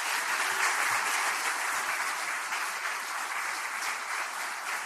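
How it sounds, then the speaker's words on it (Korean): Steady, dense applause from an audience at a Democratic Party joint meeting in Korea, filling the whole stretch at an even level with no talk over it. "다시 한번 뜨거운 응원의 박수 부탁드리겠습니다"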